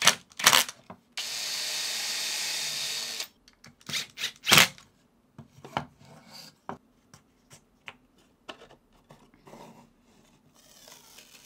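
A power driver sinks washer head screws to join two pieces of 15mm plywood: one sustained driving burst, then scattered short clicks and clatters of handling in a quiet room.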